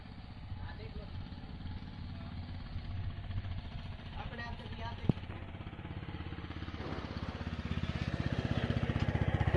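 A TVS Apache RTR 160 4V BS6 motorcycle engine in second gear chugs along at low revs without throttle, with a steady, pulsing beat that grows gradually louder and a sharp click partway through.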